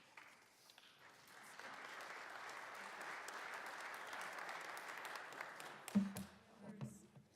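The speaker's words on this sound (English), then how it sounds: "Members, we do not typically applaud during resolutions" Applause fills the Colorado House chamber after a tribute resolution: sustained, even clapping from many members that builds for several seconds. A voice briefly rises near the end as the clapping tapers.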